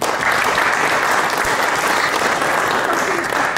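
An audience applauds at a national accordion awards ceremony, a dense, sustained wash of clapping from a full room that holds at an even level throughout.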